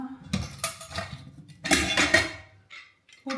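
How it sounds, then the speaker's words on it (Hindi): A pressure cooker brought over from India being handled in a student room kitchen, giving a few metallic clanks and clinks of pot and lid, with quiet gaps between handlings. "सो ये रहा हमारा कुकर जो मैं इंडिया से लेके आई हूँ"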